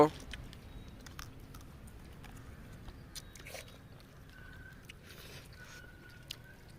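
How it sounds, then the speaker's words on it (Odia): Potato and brinjal chutney eaten with pakhala rice by a roadside, soft close biting and chewing sounds repeating irregularly over a low background hum and faint outdoor noise. "ଆଳୁ ବାଇଗଣ ଚଟଣି ଆମେ ଖାଉଛେ।"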